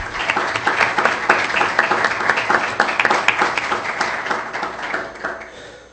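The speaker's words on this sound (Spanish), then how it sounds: "Por favor, recibamos con un caluroso aplauso a Agustín Basabe." An audience at a national security conference in Mexico gives a warm round of applause welcoming a speaker, dense steady clapping filling the room, loud and close, tapering off at the end.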